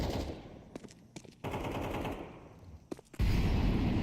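Gunfire in a Counter-Strike match at a BLAST Premier esports event: several rapid automatic bursts and shots, separated by short gaps, with a louder sustained burst at the end.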